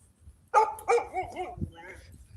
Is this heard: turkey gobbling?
no